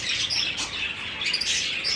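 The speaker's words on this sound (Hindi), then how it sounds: "इसमें मैंने लव बर्ड छोड़ दिए हैं।" Lovebirds chirping in a cage in a dense, continuous chatter, high-pitched calls overlapping close by without pause.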